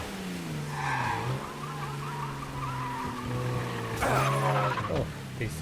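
A car in Mafia Definitive Edition skidding through a turn with poor handling, a close, sustained tire squeal over a steady engine drone that swells and surges near the end.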